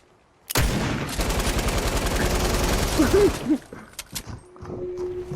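Rapid bursts of automatic gunfire in a video game, loud and dense for several seconds before trailing into scattered single shots, with a faint voice briefly under the firing.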